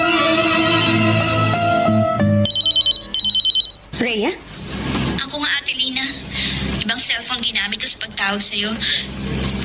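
A telephone bell rings in sharp repeated trills near the start, followed by people talking loudly in a domestic drama scene.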